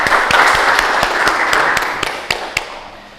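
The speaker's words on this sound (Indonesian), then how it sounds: "Tepuk tangan untuk Kevin." A small class claps for a student named Kevin during a teaching session, a loose burst of hands that thins into a few sharp separate claps before fading out.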